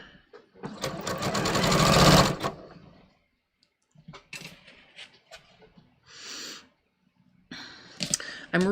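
Fabric strips are sewn down on a sewing machine in a loud burst of rapid stitching, followed by short stop-start runs and clicks with quiet gaps between.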